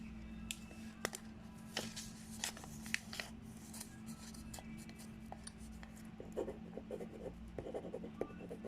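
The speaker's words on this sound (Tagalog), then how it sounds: "kumuha ka lamang ng papel at pagkatapos ay isulat mo ang buo niyang pangalan" A pen writing a name on paper, with faint scratching strokes and small rustles going on steadily in a quiet room.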